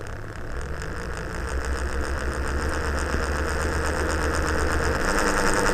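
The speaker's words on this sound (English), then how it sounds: "There's our transition from stepping startup into sine mode. There's a little bit of hiccup" A motor with very high detent torque starts up on an AM32 controller, giving a close, steady buzzing hum with a mechanical rattle that grows slightly louder as the motor keeps running.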